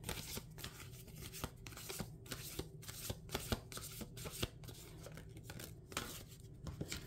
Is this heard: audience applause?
no